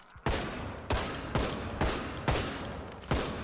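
Gunfire in the video game Project Zomboid: six loud, sharp shots spaced about 0.6 seconds apart, each with a quick decaying tail, all close and unaccompanied by talk.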